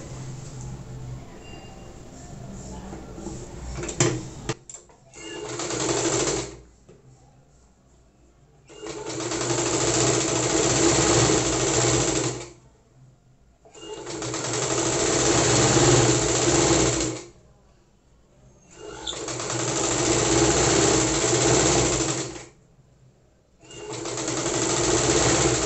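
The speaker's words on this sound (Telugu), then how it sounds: "దీని పైన మెయిన్ పీస్ పెట్టి కుట్టు వేయాలి" An electric sewing machine stitches a main fabric piece onto lining, running in five loud, close bursts of rapid whirring separated by short pauses.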